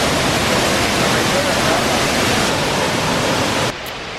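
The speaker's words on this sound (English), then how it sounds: "that waterfall that we saw first, that is freaking huge. And all the water coming in like crazy" A huge waterfall roars with rushing water, a dense, steady broadband wash held at full loudness for most of the clip before dropping to a quieter level near the end.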